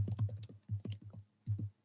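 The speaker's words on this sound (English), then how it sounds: "That's because I'm typing on the laptop." Soft keystrokes tap on a laptop keyboard in small quiet clusters with brief pauses between them, close by.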